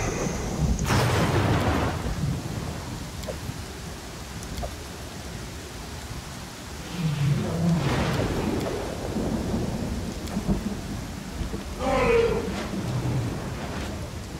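Thunderstorm in the Pathfinder: Kingmaker video game: steady rain hiss runs throughout, with low thunder rumbles swelling around the middle and near the end, fairly loud and with no one talking.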